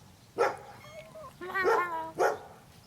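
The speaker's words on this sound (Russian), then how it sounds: "Ну да, там собака." Close by, a dog barks in three short, sharp yips with whiny tonal tails between them, loud and clear over a quiet room.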